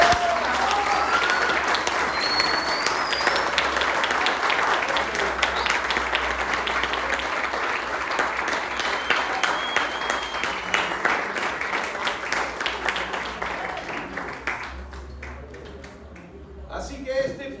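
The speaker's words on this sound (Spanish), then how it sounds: "Den un fuerte aplauso a Dios." A church congregation claps loudly and steadily for about fifteen seconds at a Sunday service, and the dense crowd applause thins out toward the end.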